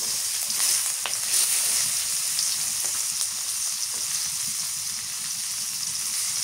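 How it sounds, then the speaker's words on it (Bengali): Chopped onion frying in hot oil with bay leaf and panch phoron, giving a continuous close sizzle with light stirring clicks and no voices. "পেঁয়াজ কুচি দিয়ে দিই এবার।"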